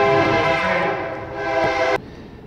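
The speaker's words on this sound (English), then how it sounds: "Here comes the train." Train passing close by with its horn blaring, a loud sustained multi-tone blast over rumbling wheels that cuts off abruptly, leaving the rolling train noise.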